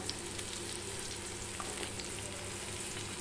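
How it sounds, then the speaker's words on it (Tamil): Garlic, tamarind and pirandai sautéing in a pan for chutney, giving a faint, steady sizzle with soft stirring scrapes throughout. "இதெல்லாம் சேர்த்து நல்லா வதக்கிக்கலாம்"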